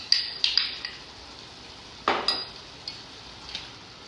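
Flour batter being mixed in a bowl while making chicken croquettes, heard as a few sharp clinks and scrapes of a utensil against the bowl, close by and spaced out, with no talking.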